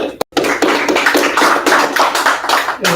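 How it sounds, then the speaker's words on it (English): An audience clapping at a religious class gathering, quick rapid hand claps in a dense steady patter after a short pause, close and fairly loud, with no talk over it. "clap it up, everybody"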